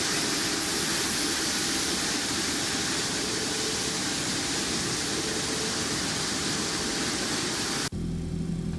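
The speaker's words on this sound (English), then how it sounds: "This sounds awesome when you shut the engines off" Jet engines of an MD-11F freighter in the X-Plane 12 simulator roar as a steady, loud broadband whine and rush, then cut off abruptly near the end, leaving a quieter low hum.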